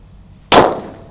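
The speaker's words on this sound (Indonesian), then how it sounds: "Selanjutnya kita nyalakan mercon buntelan petir ini." A single sharp blast from a paper-wrapped firecracker set off outdoors in the late afternoon, a sudden loud crack after a quiet moment, trailing off into a short fading rumble.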